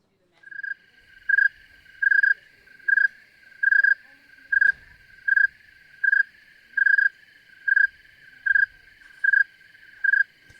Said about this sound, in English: one of the more beautiful ones is that of the snowy tree cricket